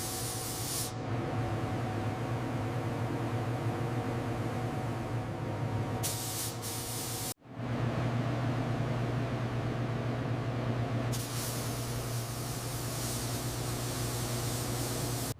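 A paint spray gun hisses in a long, steady blast, briefly cuts off, then resumes with the same loud, even hiss, spraying during restoration of a junkyard Mercedes S-Class.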